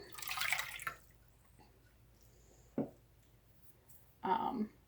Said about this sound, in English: we're going to start by adding a cup of water to our bowl